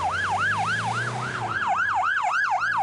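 An emergency vehicle siren wails in a steady rising-and-falling cycle, loud and continuous over a low road rumble, with no talk.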